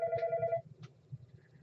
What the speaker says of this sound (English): my phone's ringing. I'm not going to get it.